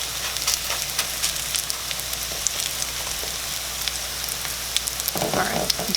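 Zucchini fritters frying in a pan, a constant loud close sizzle with crackles and spits throughout and a brief shuffle near the end, no talk.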